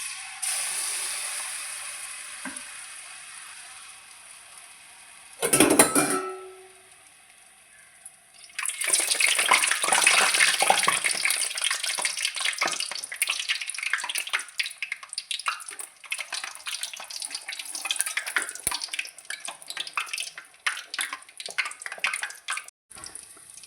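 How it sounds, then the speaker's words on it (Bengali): Batter made from banana hits hot oil in a wok and fries with a loud, continuous crackling sizzle, preceded by a brief burst of noise and quieter background before the frying starts, with no one talking. "কড়াইতে তেল দেওয়া হয়ে গেছে, তেলটা প্রায় গরম হয়ে গিয়েছে। এবার এক হাতা ছেড়ে দেখি"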